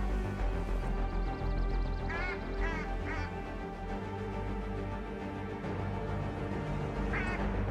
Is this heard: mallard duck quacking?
yes